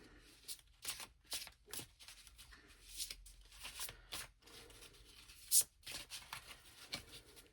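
Tarot cards being shuffled by hand during a reading, a run of quick papery riffles and soft flicks repeating through the stretch, close and fairly quiet, with one sharper snap partway through and no talking.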